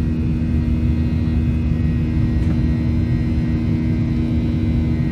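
Steady, loud airplane cabin drone while taxiing to the arrival gate at Amsterdam, a continuous low engine rumble and whine with no speech.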